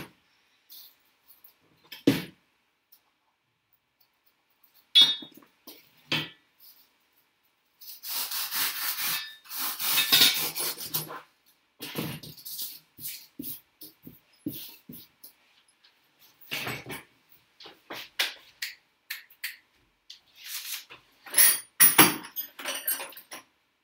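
Intermittent harsh, squeaky grinding bursts of a drill boring into styrofoam come and go, some short and some sustained for a few seconds, with near silence between them.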